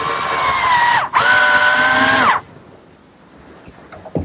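A power drill drives screws to attach a wooden drawer front in a woodworking shop. It gives two loud whirring bursts, with a brief pause between them and the pitch dropping as each screw seats, then quiet shop sounds.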